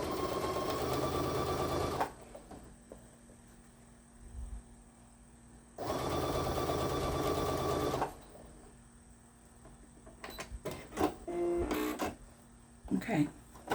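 A sewing machine stitches linen binding in two steady whirring runs of about two seconds each, close and fairly loud. Quieter handling noises and brief rustles fill the gaps between the runs.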